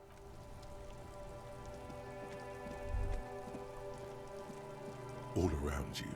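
Rain patters steadily across the city of Revachol in Disco Elysium, a continuous wash of drops beneath sustained music tones, with a couple of short low thumps standing out.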